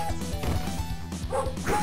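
A dog barks several times in quick succession inside the Crime Fighters 2 video game, with loud, punchy yaps set against a busy in-game background.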